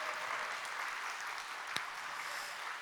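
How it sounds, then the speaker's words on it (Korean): A church congregation in Korea claps steadily to welcome a visiting pastor. The applause is moderately distant and continuous, with one sharp knock partway through. "우리 목사님 나오실 때 우리와 같은 박수로 우리 뜨겁게 환영하시겠습니다."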